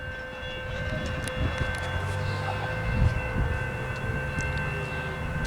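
A westbound CN freight train draws near, its low rumble building steadily under a sustained tonal drone, with a brief swell partway through.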